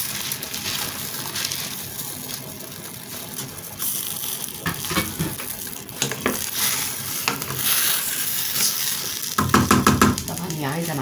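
Okra added to a pan of tomato sauce for an Egyptian okra and lamb tagine, sizzling and bubbling with stirring and scraping, the frying growing louder toward the end.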